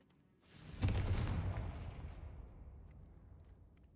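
A Confringo blasting spell explodes in Hogwarts Legacy, a single loud, close boom with a sharp onset that rolls into a long, fading rumble.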